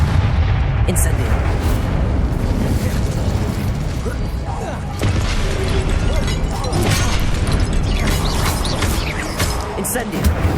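Fire spells cast in Hogwarts Legacy during a busy duel, loud crackling bursts and whooshing blasts layered over a dense, continuous battle din.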